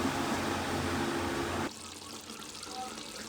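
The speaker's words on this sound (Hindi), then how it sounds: "अब इसमें डाल देते हैं गरम पानी।" Hot water poured into chicken curry cooking with tomatoes in a pan, a loud steady splashing pour that cuts off abruptly partway, followed by quieter simmering bubbles.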